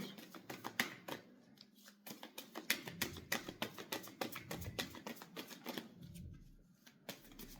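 Cards being shuffled and drawn for a card reading, with quick riffling bursts and crisp flicks that pause briefly midway, then resume before a quieter ending. The sound is close but faint.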